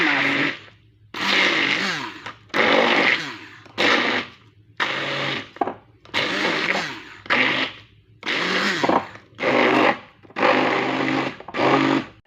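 A blender mixing sweet cottage-cheese cake batter whirs in repeated short bursts, about ten pulses separated by brief pauses, loud and close.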